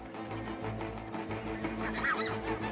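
Adult geese honking as they take flight from attacking eagle-owls in the Chilean desert, a dense cluster of overlapping calls over a steady background, growing busier toward the end.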